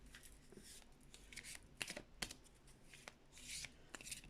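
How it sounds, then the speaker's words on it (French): A deck of cards is riffled and shuffled by hand in quick, crisp bursts of flicking and slapping, close and quiet, with short pauses between passes. "je vais remélanger les cartes"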